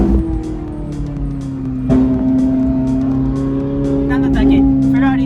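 Tuned Nissan GT-R engine droning steadily from inside the cabin while driving, a sustained tonal hum that rises slightly in pitch, with people talking over it.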